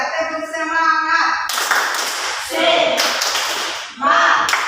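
A classroom group performs the tepuk semangat clapping chant, with rhythmic bursts of hand claps alternating with children's chanted voices, close and fairly loud.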